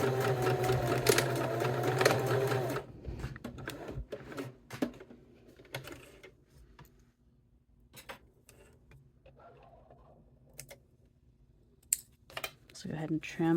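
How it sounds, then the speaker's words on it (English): A sewing machine runs steadily stitching along the bottom seam of a cork wallet piece, a dense whirring for a few seconds, then stops, followed by scattered clicks and light handling noises with some talk. "we're just going to sew along the bottom of piece D so that it attaches to piece C"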